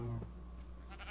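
A sheep in Minecraft gives a single short bleat at the start, fairly quiet and clear, followed by a faint trailing tone.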